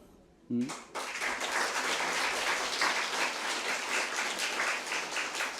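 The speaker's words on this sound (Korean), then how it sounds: "이렇게 박수를 쳐야 되는 거예요." Applause from a church congregation breaks out after a brief voice and continues as steady, dense clapping, fairly loud and sustained to the end.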